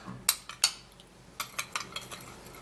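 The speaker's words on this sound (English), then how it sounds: "take half tablespoon of turmeric powder, and I'm going to stir this all up" A spoon clinks and scrapes against a small bowl while stirring turmeric powder into a mixture, a few sharp taps followed by a run of lighter rhythmic scrapes, close and isolated.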